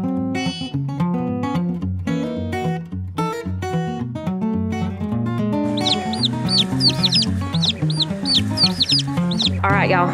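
Instrumental music plays throughout, and in the second half a cluster of high peeping calls from baby Easter Egger chicks rises over it, repeating rapidly.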